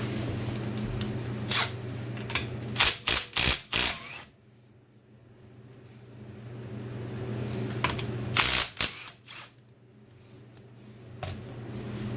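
Socket ratchet working the lug fasteners on a wheel of a 2010 Mercedes E350 W212 4Matic: quick bursts of ratcheting clicks in two clusters, close and fairly loud, over a steady low hum.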